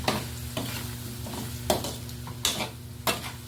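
Pork adobo being stirred in a pan, with a utensil scraping and clacking at irregular intervals over a steady close sizzle.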